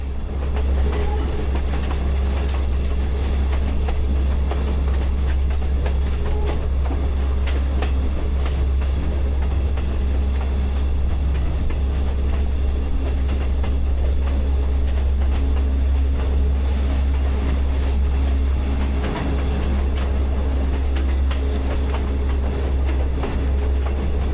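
A train climbs a steep incline on the railway line at Great Western in Sri Lanka, giving a loud, continuous low rumble with steady wheel and carriage noise throughout.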